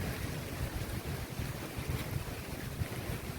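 Rain falls steadily at Velliyamkallu heritage park beside the Bharathapuzha river, a broad close hiss of drops mixed with gusty wind buffeting the microphone, with no one speaking.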